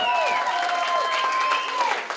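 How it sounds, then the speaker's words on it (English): A crowd applauds a band at a concert, clapping and cheering mixed with a voice over a sustained musical tone, fairly loud and close. "Let's have a big round of applause for this fantastic band."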